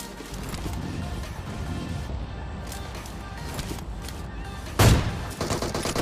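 Gunfire in the mobile game PUBG Mobile during a solo-versus-squad match, with steady game ambience, a sudden loud burst of shots near the end and several quicker follow-up bangs.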